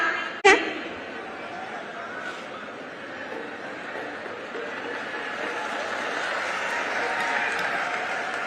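A crowd applauds at an outdoor political rally in Amroha addressed by Chief Minister Yogi Adityanath. A sharp knock opens a sustained, moderately loud wash of clapping that swells slightly toward the end.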